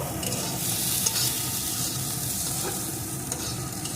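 Green pea snack mixture with lemon juice being stirred in a hot pan, a continuous close sizzle with soft scraping strokes and a couple of faint spoon taps, no speech.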